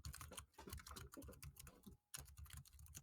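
Rapid, uneven clatter of computer keyboard typing, close and quiet, with a brief pause midway before the keystrokes resume, heard during a podcast recording.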